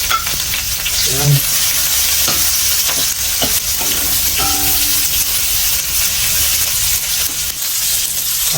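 Ginger for chicken adobo sizzles in a hot pan, a loud, steady frying hiss with occasional stirring scrapes and a brief spoken word early on.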